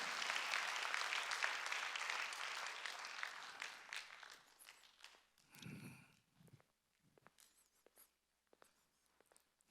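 Congregation at a Wednesday church worship service breaks into loud, dense applause for about four seconds, which then thins to scattered claps and faint shuffling.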